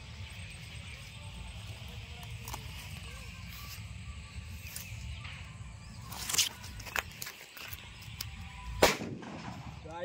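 Firecrackers set off against a banana tree pop in a few sharp, loud bursts, the biggest near the end, over a steady outdoor hiss with light background noise.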